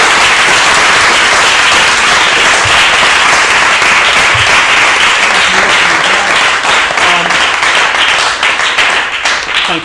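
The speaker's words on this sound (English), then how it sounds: "Give him a clap." A live audience at a poetry podcast event applauds a guest, loud and sustained clapping from many hands that fills the room from start to finish.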